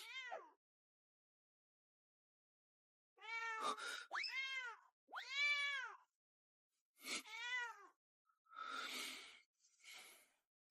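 A cat meows close by in a quiet room: a single short mew, then after a pause a cluster of several drawn-out meows, followed by breathy, hoarser cries spaced apart.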